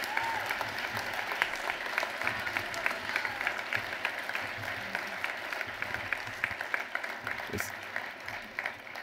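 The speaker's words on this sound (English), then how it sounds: "One more round of applause for these incredible leaders and all the rest of them." An audience gives a sustained round of applause for leaders at a keynote on the American Dream, dense steady clapping with scattered louder claps running throughout.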